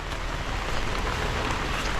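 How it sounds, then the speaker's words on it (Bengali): Steady rain falling without pause during a long spell of monsoon downpours in Bangladesh, a dense, even hiss that stays loud and constant throughout with no voices. "বৃষ্টি কোনো রকম আসলে থামছেই না।"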